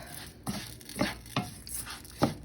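Rice coated in oil browns for risotto in a pan, with a low sizzle under four soft, evenly spaced stirring scrapes.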